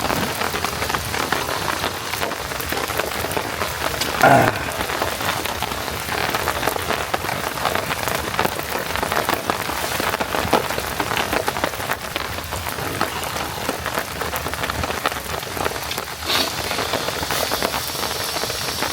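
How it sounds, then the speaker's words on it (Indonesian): Steady rain falling on a dark, quiet forest campsite, a dense continuous patter of drops on surfaces lasting the whole stretch, fairly close and even in level, with no voices. "sambil nunggu hujannya reda"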